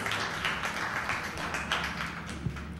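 Crowd applause at the launch of the 2013 Kiddy Cricket season, a sustained, fairly faint patter of many hands clapping with a low hum beneath.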